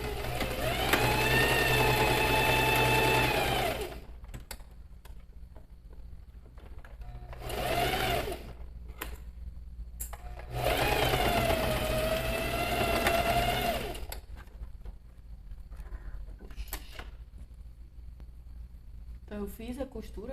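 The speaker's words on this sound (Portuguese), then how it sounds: "passar uma costura aqui na lateral para finalizar esse meu" A sewing machine stitches the side seam of a bag in three close, steady whirring runs, with pauses between them. Someone talks during the pauses and alongside the stitching.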